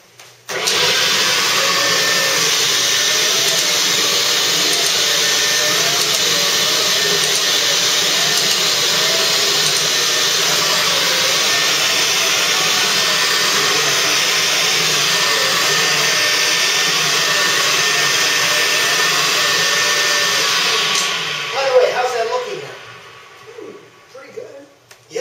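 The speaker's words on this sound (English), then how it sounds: "just come in there and do your normal vacuuming that you would normally do on a daily basis, but just using this machine versus your normal upright" A commercial vacuum cleaner runs continuously on carpet, a loud steady whine and airflow roar that holds for over twenty seconds before the motor cuts off and winds down.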